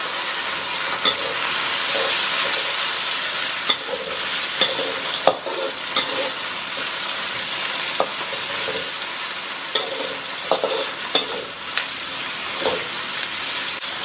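Chopped tomatoes hit hot oil with cardamom and cinnamon spices for a thick mutton gravy, giving a steady close sizzle and frying hiss throughout, with occasional spoon stirs and scrapes against the pan and no talking.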